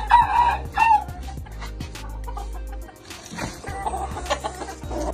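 A rooster crows briefly at a farm pen, among clucking hens, with a short strained call near the start and scattered clucks after, nearby and without talk.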